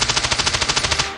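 Rapid automatic gunfire from the mobile shooter Standoff 2, a steady burst of about fifteen evenly spaced shots in just over a second, loud and close with no talk over it.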